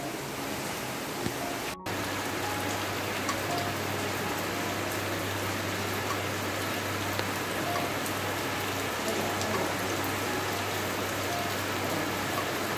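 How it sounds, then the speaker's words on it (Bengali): Steady rain pours outside, a constant even hiss of drops on surfaces that runs unbroken for the whole stretch, with a low hum beneath and no talking. "আরও জোরে কিন্তু বৃষ্টিটা আসছে।"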